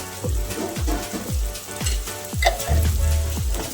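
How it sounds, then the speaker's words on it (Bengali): Pieces of parda fish curry frying with chilli powder and salt in a pan, stirred in steady rhythmic strokes that scrape through a constant close, loud sizzle. "ভালো করে নেড়ে চেড়ে নেব"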